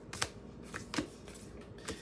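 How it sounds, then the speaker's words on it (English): Oracle cards are shuffled in a few quick riffling bursts, soft and close, separated by short pauses with faint room noise between them. "when I was shuffling the Oracle cards, I had a couple of them fall out face down"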